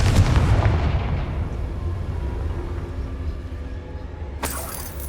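A Confringo blasting spell goes off in Hogwarts Legacy, a loud booming burst at the start that trails into a long rumbling decay, followed by a sharp bright crack near the end.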